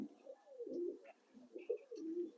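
Mondian pigeons coo softly from inside a bamboo cage, giving low, throaty, rolling calls in a few overlapping phrases. The sound is faint and close, with a brief higher chirp mixed in.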